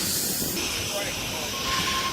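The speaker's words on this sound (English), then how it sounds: "T48 and friend now departing platform number 1 Central service." A Sydney T48 electric train pulls away from platform 1 at Warrawee station with a close, steady hiss and rolling rumble that holds throughout the short moment.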